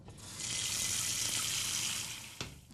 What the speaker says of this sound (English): Then put some water in the pot.